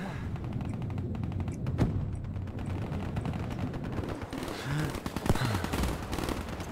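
Video game gunfire from Black Ops 3 rattles in dense, rapid bursts with sharp single cracks, a busy, continuous barrage from start to finish.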